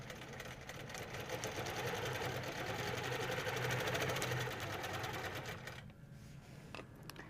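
A sewing machine quilts along a wave ruler, its needle chattering in a fast, steady rhythm close by at low volume, then slowing and stopping near the end.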